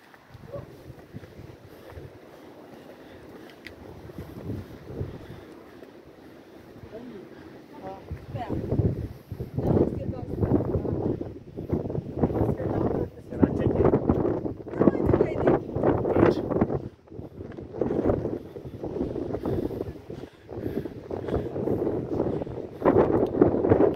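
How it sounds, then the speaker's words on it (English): Gusty wind roars and buffets the microphone on a hilltop at the Cape Point lighthouse, growing louder about halfway through, with muffled voices underneath. "My camera is moving. It's too windy."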